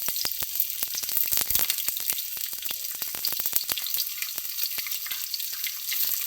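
Onion and green chili sautéing in a pan for paneer butter masala, a steady dense sizzle and crackle with sharp clicks of a spoon stirring throughout, close and alone.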